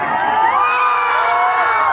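Large audience at a Bhojpuri stage show in Vaishali cheering and shouting in a loud, dense roar that holds steady throughout, with scattered whoops rising above it.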